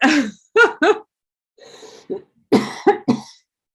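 Several coughs in quick succession, close and fairly loud, with short pauses between bursts and no talking.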